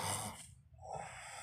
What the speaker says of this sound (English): They be snoring like bullshit.